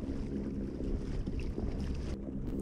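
Wind blowing over a Native Manta Ray 12 Propel pedal kayak on open water, a continuous low rumbling buffet on the microphone with faint water noise and no speech.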